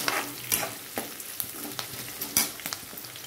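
Chana dal and dried red chillies frying in hot oil with a continuous crackling sizzle and regular scraping stirs every half second or so, close and fairly loud.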